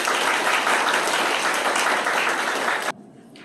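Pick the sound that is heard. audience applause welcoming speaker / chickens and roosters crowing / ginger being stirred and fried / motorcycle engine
audience applause welcoming speaker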